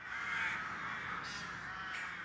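A flock of rooks caws in a town, overlapping harsh calls blending into a continuous raucous chorus at moderate distance with no speech.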